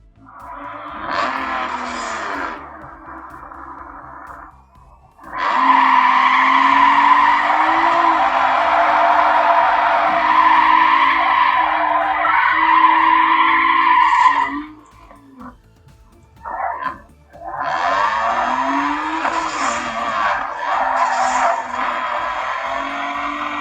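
A modified Mitsubishi 3000GT in Need For Speed Underground 2 roars loudly with long revving bursts, interrupted by short pauses, shifting pitch and sharp squealing tire skids.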